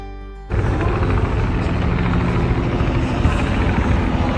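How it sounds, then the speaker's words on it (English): A helicopter flies near the Statue of Liberty, its loud, steady rotor thrum and engine roar starting abruptly and continuing close by. "Oh, look at the helicopter."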